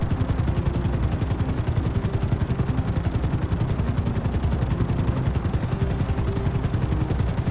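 A helicopter in GTA V flies steadily with a continuous, fast rotor chop and engine drone that stays loud and close throughout, with no voices.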